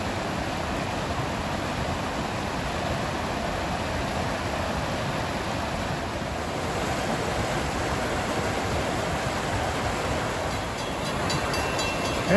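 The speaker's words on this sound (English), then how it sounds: "we have a Hoboken Gladstone train coming in, passing the scenic setting." An NJ Transit Hoboken–Gladstone train approaches along a branch line past a stream and waterfall, its low rumble rising gradually under a steady rush of water, with no voices.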